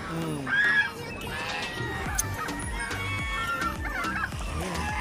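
Chickens cluck at a pet market in Kuwait, giving repeated short calls close by amid bird noise and general market bustle, with a person's voice in the background.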